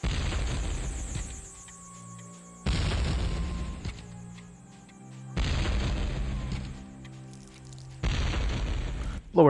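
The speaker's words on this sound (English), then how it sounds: "Blow everything up." Repeated heavy booms from bombs going off in the PS1 role-playing game TechnoMage: Return of Eternity, four loud blasts spaced a few seconds apart, each with a rumbling tail and no talking.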